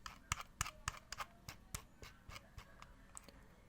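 The scroll wheel of a delux M629 wireless mouse turns, making a rapid run of faint, crisp ticking notches at an uneven pace, close and quiet, with no talk.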